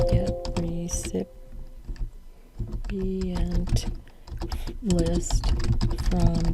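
Bursts of typing on a computer keyboard, quick clusters of key clicks separated by short pauses, close and moderately loud with a person talking over parts of it.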